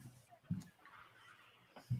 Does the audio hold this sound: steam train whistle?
no